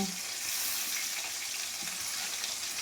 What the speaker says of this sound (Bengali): এদিকে আমার তেলাপিয়া মাছ ভাজা হচ্ছে